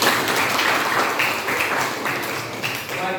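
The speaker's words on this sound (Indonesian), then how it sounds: "tepuk tangan baru kita" An audience claps during a religious lesson, steady dense applause at moderate loudness holding for a few seconds with a small dip before the end.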